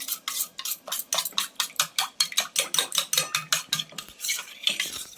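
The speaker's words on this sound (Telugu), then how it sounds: "2 స్పూన్స్ వేసేసి బాగా మనం ఉండలు లేకుండా కలుపుకోవాలండి." A spoon rapidly clinks against a bowl or glass while stirring two spoonfuls of custard powder into milk, a steady run of close, bright metallic taps, alone and without talk.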